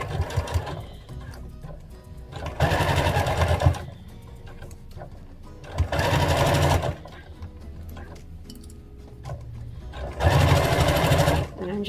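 A sewing machine stitches fabric for bear overalls in three bursts of fast, even whirring of about a second each, separated by quieter pauses, close by and loud.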